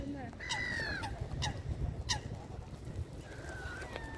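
Ducks, geese and other water birds at the Serpentine lake in Hyde Park, London, honk and call repeatedly in short bursts over steady outdoor ambience, with a few distant voices in the background.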